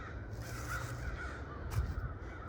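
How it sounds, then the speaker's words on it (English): Several crows caw repeatedly at a moderate distance in the woods at Hog's Back near Conneaut, Ohio, harsh calls overlapping against a steady outdoor background. "is crows. They are just telling them every move that I am making."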